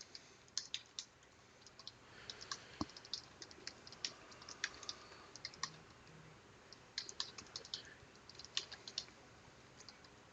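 Someone types on a computer keyboard entering meeting details in Microsoft Teams. The keys click lightly and unevenly in quick bursts with brief pauses, quiet and close against a faint background.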